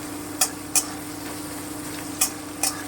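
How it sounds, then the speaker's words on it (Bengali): Two medium chopped onions fry in a pan under a low steady sizzle, broken by four sharp spatula scrapes or taps spaced irregularly, close and fairly quiet. "সবার আগে কুচুনো পেঁয়াজটা দিয়ে দিচ্ছি আমি এখানে দুটো পেঁয়াজ নিয়ে নিয়েছি মাঝারি সাইজের খুব ভালো করে ফ্রাই করে নিচ্ছি"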